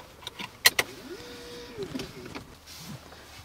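The motorised seat belt presenter of a 2019 Mercedes-AMG S63 Coupe extends with a short, steady electric motor whine lasting about half a second, preceded by a couple of sharp clicks inside the quiet cabin.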